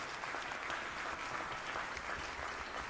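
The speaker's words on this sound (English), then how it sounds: "How about a round of applause for those folks who are working so hard." Audience at a New Orleans music school event giving a round of applause, a steady, even wash of many hands clapping throughout at moderate level, with no talk.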